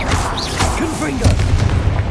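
A Confringo spell blast in the video game Hogwarts Legacy lands as a booming thump partway through, amid loud battle noise and a vocal voice sound.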